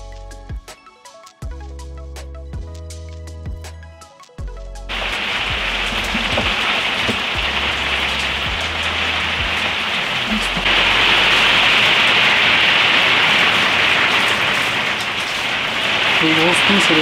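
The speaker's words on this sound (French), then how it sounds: "le son de la pluie est vraiment spécial" Rain drums steadily on the roof of an overland camper van in Québec, a dense, continuous hiss that swells louder partway through, preceded by a few seconds of other noise and faint voices.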